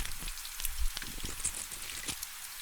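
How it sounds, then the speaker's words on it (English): Rain falls on stone in a quiet medieval scriptorium, a soft, muffled spatter of scattered drops and light crackles, faint and distant with no voices. "the distant muffled sound of rain on stone"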